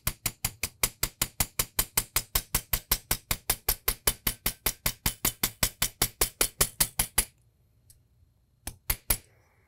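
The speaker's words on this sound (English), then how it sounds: "I'm going to keep going until I have the whole center pretty much covered with hammer marks." A small metal earring piece is textured with a jeweler's hammer, producing a fast, even run of about forty sharp close taps, then a pause and a few last strikes.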